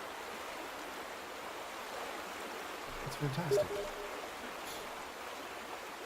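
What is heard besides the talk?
flowing water stream in video game The Vanishing of Ethan Carter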